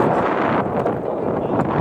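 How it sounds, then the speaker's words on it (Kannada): Strong wind gusts over the sand dunes on a desert safari outside Dubai, buffeting the microphone with a loud, rough, fluctuating rumble. "ತುಂಬ ಗಾಳಿ ಇದೆ"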